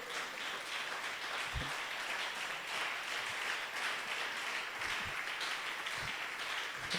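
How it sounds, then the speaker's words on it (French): A church congregation applauds loudly for Jesus during a French-language service, producing a sustained wash of dense clapping that continues steadily from start to end, with a few low thumps scattered through it. "acclame très fort le Seigneur Jésus"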